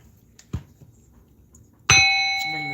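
A hand bell rung once to clear energy during a tarot reading; a single bright, ringing strike follows a soft knock and decays slowly with a sustained shimmering tone.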